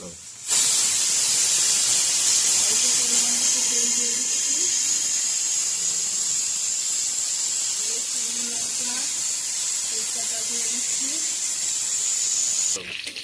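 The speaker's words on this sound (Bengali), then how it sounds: "ঢাকনাটা লাগিয়ে দিলাম, দিয়ে কয়েকটা সিটি দিয়ে নেব।" A pressure cooker holding mutton curry lets out a loud, steady high hiss of steam that runs almost unbroken for over ten seconds, with a faint voice-like murmur beneath.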